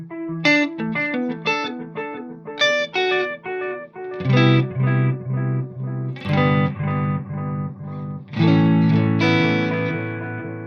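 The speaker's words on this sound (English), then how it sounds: "Then we have the analog delay." Electric guitar played through an analog delay pedal, picking clear melodic notes and chords whose repeats trail behind each phrase, warm and darkening, loud and alone without speech.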